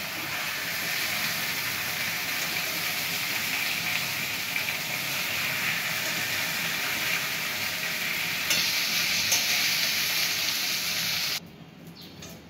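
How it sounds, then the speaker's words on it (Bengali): Fish frying in oil for a mustard-and-mango fish curry, a loud, dense, continuous sizzle close up, steady throughout before cutting off abruptly near the end. "মাছগুলো আমরা হালকা ভেজে নিয়েছি, এবার বাটিতে তুলে নিচ্ছি।"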